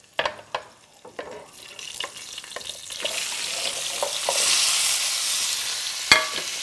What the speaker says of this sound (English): Now you're gonna bring all your vegetables and dump them in.